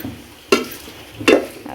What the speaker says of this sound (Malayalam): കാശ്മീരി ചില്ലി ഇത്രയും കാര്യങ്ങളാണ് നമ്മൾ ആ വെളിച്ചെണ്ണയിലേക്ക് വറുത്ത് ചേർക്കുന്നത്